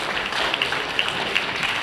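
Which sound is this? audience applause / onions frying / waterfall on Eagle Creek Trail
audience applause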